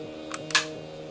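Two quick plastic ratchet clicks, the second sharper and louder, as the legs of a Transformers Machine Wars toy trailer are angled down, with near silence around them.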